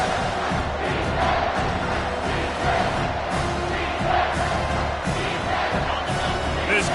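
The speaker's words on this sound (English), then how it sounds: "This crowd rising up, sensing that its defense needs some help." Stadium crowd in the College Football 25 video game, a steady dense roar of many voices swelling throughout at a constant loud level, with no clear individual words.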